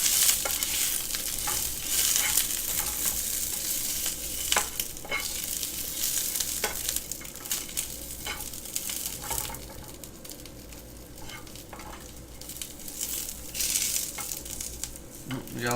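Onions frying on a hot griddle for Philly cheesesteak grilled cheese. A steady close sizzle carries throughout, broken by repeated sharp spatula scrapes and taps against the metal surface.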